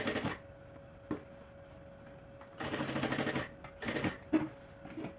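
A sewing machine running a safety stitch along the very edge of fabric for a small baguette handbag, heard as short mechanical bursts of rapid needle clatter separated by pauses, close and moderately loud.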